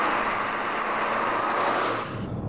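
A Volkswagen Scirocco sports coupé drives by with a loud, steady broadband engine and road roar that stays strong throughout and fades slightly near the end.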